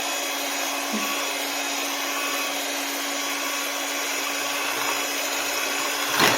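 A stand mixer fitted with a whisk attachment runs at medium speed, whipping heavy cream and powdered sugar into frosting; a steady, close, continuous motor whir with a constant hum holds for the whole stretch, with no one talking.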